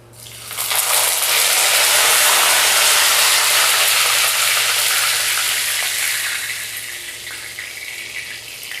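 Loud, steady sizzling of curry leaves dropped into hot oil with fennel seeds, bursting up suddenly, then gradually easing off a little.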